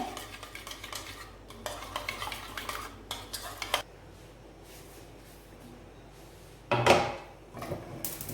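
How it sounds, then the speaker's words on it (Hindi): A spoon scrapes and clinks in a bowl, stirring chicken marinade with coriander powder and paprika, in uneven bursts of close, crisp knocks with a louder clatter near the end; no one speaks. "वो डाल के इसको अच्छे तरीके से हिलाएं।"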